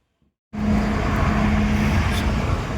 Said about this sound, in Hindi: गाड़ी को थोड़ा वार्म अप कर लेते हैं 10 मिनट के लिए